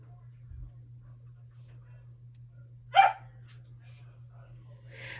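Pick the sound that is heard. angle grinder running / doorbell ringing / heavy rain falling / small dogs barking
small dogs barking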